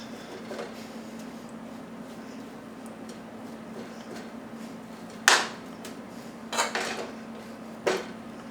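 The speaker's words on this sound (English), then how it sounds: "We got a full pot of rice here. You just kind of want to fluff it up." Cooked rice fluffed in a full pot: a few sharp utensil scrapes and clinks against the metal, spaced apart over a steady low hum.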